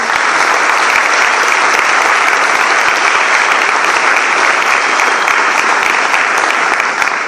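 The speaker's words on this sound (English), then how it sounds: "I think all of us should take the opportunity to give Mr. Tennant another round of applause." Loud, sustained applause from an audience at a Founders Day gathering honoring Mr. Tennant, a dense steady wash of clapping that holds evenly from start to finish with no voices rising above it.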